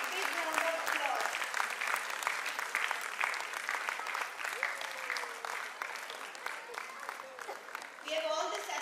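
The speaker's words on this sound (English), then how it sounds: "They deserve a big, big round of applause." Preschool annual concert audience applauding steadily as performers walk toward the stage, a dense continuous clapping with crowd noise, loud and sustained throughout, with a host's voice and some background voices heard over it.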